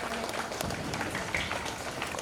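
Applause from the audience at a school annual function held by a convent school, a steady dense patter of many hands clapping that lasts a couple of seconds, with faint voices mixed in.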